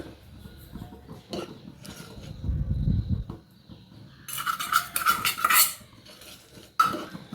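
A spoon scrapes and clinks against a pan as flattened rice (aval) is stirred together with jaggery, with soft rustling between bursts of louder metallic scraping toward the end.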